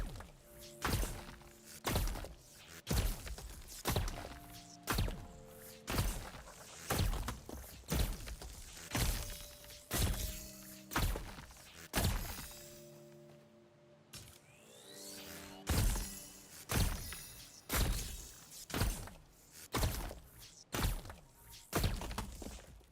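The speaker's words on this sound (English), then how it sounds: "We want to knock off all of the rock, but we don't want to hit the core" In the video game Lost Skies, a tool strikes a floating rock core again and again, knocking rock away from the metal. The blows come as a steady series of sharp thunks and crunches, each with a short ringing tone, with a brief pause midway.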